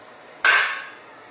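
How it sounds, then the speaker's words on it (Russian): Shredded cabbage dropped into a pot of boiling Ukrainian borscht with nearly cooked potatoes gives one sudden splashy burst that fades within about half a second, with nothing else around it. "Если она почти сварилась, отправляем сюда капусту."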